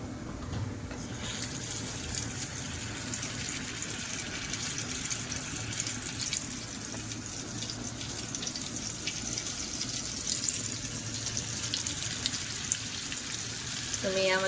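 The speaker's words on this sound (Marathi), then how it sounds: "मच्छी फ्राय करून घेऊया." Black fish fry in well-heated oil in a pan on a gas stove, giving a steady dense sizzle and crackle that holds at an even level throughout.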